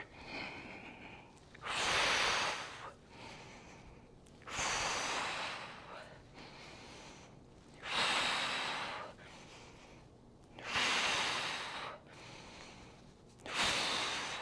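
A person doing a yoga flow takes slow, deep breaths through the nose, with about six loud, rhythmic inhale-exhale cycles close by and quiet pauses between them.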